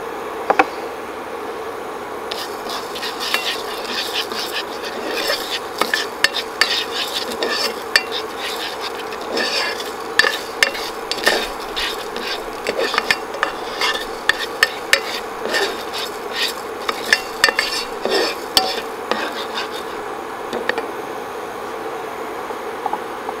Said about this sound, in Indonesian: sekarang akan saya masukkan biji fenugreeknya dulu. Ini kan keras sekali ya,